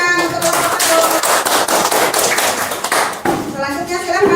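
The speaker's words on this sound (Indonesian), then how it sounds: "Tepuk tangan untuk kelompok" Classroom applause for a presenting student group, a dense patter of many hands clapping steadily throughout, with voices mixed in.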